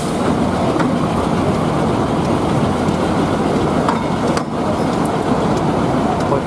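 A narrow-gauge 'kukushka' train departs near Haivoron with a single small carriage, giving a loud, steady rumble and rattle of wheels on rail with occasional clanks throughout.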